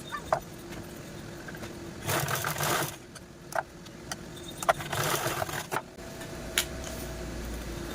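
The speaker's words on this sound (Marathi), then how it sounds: "आता अशा पद्धतीने आपण याला स्टिच करून घेणार आहोत" A sewing machine stitches a blouse piece made from a sari border in short, uneven bursts, with brief pauses and handling noises between runs, close and moderately loud.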